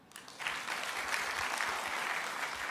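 A crowd breaks into sustained applause after a brief moment, clapping steady and fairly loud throughout.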